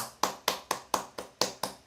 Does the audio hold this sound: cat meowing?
no